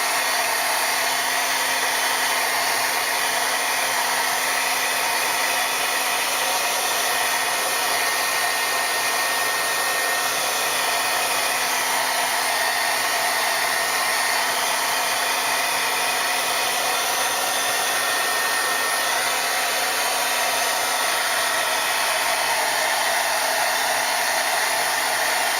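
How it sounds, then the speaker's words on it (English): A heat gun drying cardstock blows a loud, continuous, steady whirring hiss with an even hum throughout, unbroken and alone, with no voices. "I'm going over it with my heat gun."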